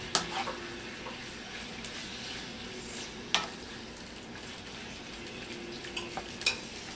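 Beef and garlic fry in a pan over moderate heat with a continuous close sizzle, broken by a few sharp scrapes and clinks of a utensil against the pan.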